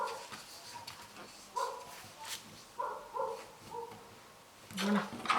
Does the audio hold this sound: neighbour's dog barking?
yes